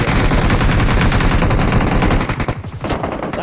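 Rapid automatic gunfire in PUBG Mobile, a loud, close, continuous burst of evenly spaced shots that breaks off briefly before resuming.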